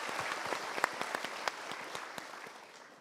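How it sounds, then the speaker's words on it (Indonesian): An audience at a motivational talk gives a short, moderately faint round of applause, a dense patter of many hands with a few sharper claps standing out, fading slightly toward the end. "Kita berikan doa dan kita berikan tepuk tangan dulu"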